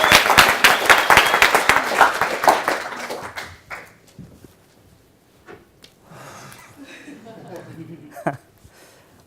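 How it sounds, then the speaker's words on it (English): Audience applause greets a speaker walking on stage at a speaker-training event in London, a burst of clapping that is loud at first and fades within a few seconds, leaving quiet room noise with scattered soft knocks. "welcome on stage with a warm applause"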